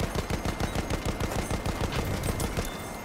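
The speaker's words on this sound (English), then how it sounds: "That's an AA gun" Rapid bursts of anti-aircraft gunfire in Battlefield 1, a steady mechanical stream of heavy thumping shots repeating evenly throughout, loud and close with no talk over it.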